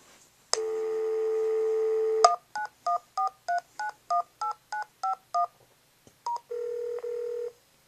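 Touch-tone keypad dialing on an EMS PSS elevator emergency phone: a steady tone for about two seconds, then ten evenly spaced DTMF beeps, then a couple more tones and a final sustained tone, all clear and close with no talking.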